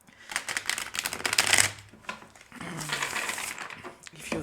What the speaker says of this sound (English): I love this deck, but it is very difficult to shuffle